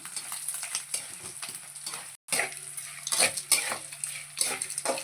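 Food fries and is stirred in a pan for coconut rice, just before grated coconut goes in. Steady close sizzling runs throughout with scraping stir strokes and light utensil clinks, broken by one brief pause.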